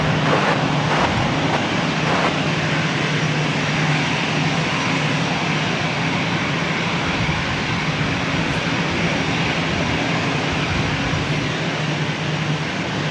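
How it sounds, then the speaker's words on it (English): A Delta Airlines Airbus A321 takes off from LAX, its jet engines producing a loud, continuous broadband roar with a low rumble that stays steady across the whole stretch, with no talk over it. "This is Delta Airlines 914 taking off to Minneapolis on an A321."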